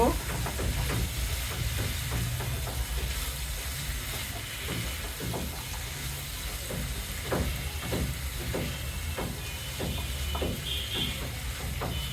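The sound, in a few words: stirring and frying singara filling in a pan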